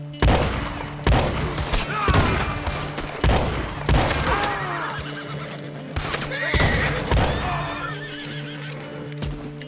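Horses whinny repeatedly amid bursts of gunfire in a Red Dead Redemption 2 shootout, loud shots cracking at intervals while high, wavering neighs rise between them and hooves clatter underneath.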